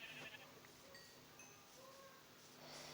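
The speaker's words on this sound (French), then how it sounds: "Oh, des moutons" Sheep bleating in a video game, a few faint, distant bleats over a quiet background hiss, with no talking.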